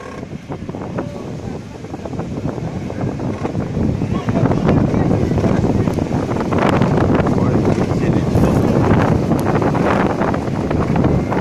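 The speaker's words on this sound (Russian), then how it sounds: "Хороший ветер." Strong wind in Yakutia roars and buffets the microphone continuously, a loud rushing noise with no letup.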